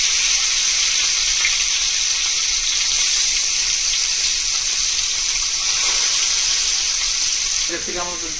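Fish pieces fry in hot oil in a pan, a loud steady sizzle that fills the space up close, with a brief voice near the end.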